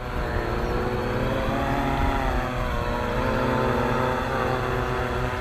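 Quanum XJ470 quadcopter hovering outdoors, its motors holding a steady, loud whirring drone that stays constant throughout without pauses.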